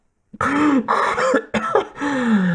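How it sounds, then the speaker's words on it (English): A voice performs a raspy, strained cough as a dying character, with several harsh, throaty hacking bursts close up and loud, separated by brief catches of breath. "Mantis coughed."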